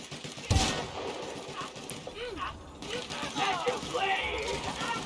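Gunfire from The Outer Worlds against a scrap mechanical, with a loud sharp burst near the start, then scattered shots and mechanical clatter under game sounds and some talk.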